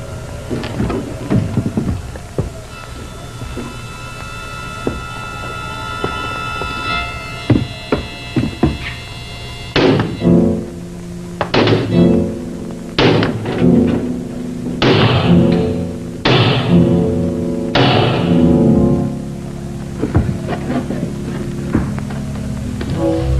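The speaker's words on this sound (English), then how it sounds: "hammer on the lock" Loud, heavy metallic hammer blows strike a door lock repeatedly at an irregular pace, each ringing briefly, over a low steady hum.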